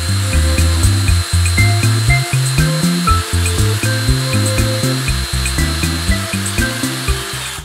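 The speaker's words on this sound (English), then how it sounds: "You drill out the hole first." A power drill runs steadily through wood, its motor whine pulsing in quick repeated bursts as the bit bites, loud and close with no talking.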